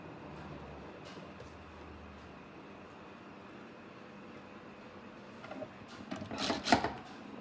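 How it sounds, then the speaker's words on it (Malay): A sewing machine topstitches fabric for a telekung prayer garment: a low, steady mechanical whir runs throughout, then rises into a louder, busier burst of stitching near the end. "Kemudian buangkan benang dan kita jahit tindih."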